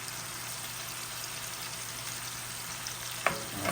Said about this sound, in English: once you put it in the hot oil, and you see the color change, then you flip it over on the other side